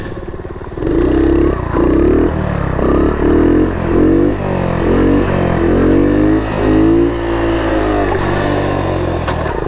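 A vintage Honda ATC three-wheeler's small off-road engine revs loudly during a wheelie, rising and falling in repeated throttle surges close by, with no talk over it.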